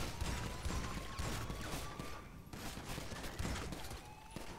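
Sustained rapid gunfire in the video game GTA V during a heist shootout, dense overlapping volleys and bursts with a few brief lulls, loud and continuous throughout.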